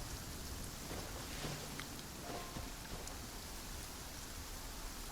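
Heavy rain pours steadily in Genshin Impact in a dense, continuous hiss, with no voices and only faint scattered drips and knocks within the downpour.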